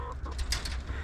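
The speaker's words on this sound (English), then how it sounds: "Chickens are happy." Chickens cluck softly on a spring day around a chicken house, a few short calls overlapping at a distance amid quiet outdoor ambience.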